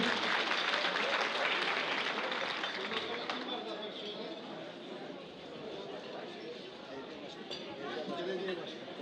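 An indoor audience gives loud applause as a foundation president is called to the stage, dense clapping that peaks at first, thins a little midway and then swells again, with scattered chatter mixed in.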